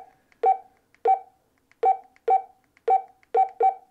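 A series of short electronic roger beeps from a Talkpod A36 Plus two-way radio repeats at a steady pace, seven in all, crisp and close against silence.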